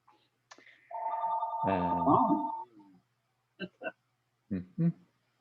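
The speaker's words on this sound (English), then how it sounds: "house phone's ringing" House phone ringing, a short electronic ring tone of about two seconds, fairly faint in a quiet room, followed by brief bits of talk.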